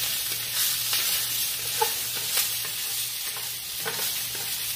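Garlic and onions fry in a pan for beef birria, giving a continuous close sizzle broken by light stirring scrapes and a few soft taps, with no voices.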